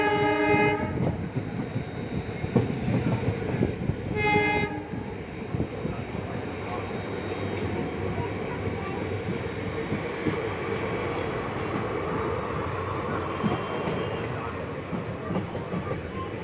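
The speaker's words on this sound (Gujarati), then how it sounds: "જોઈ શકો છો પાટો ટ્રેક બદલી રહી છે ટ્રેન." Passenger train leaving Lathi station and crossing onto another track: two loud horn blasts at the start, then continuous rolling rumble and wheel clatter, with faint voices in the background.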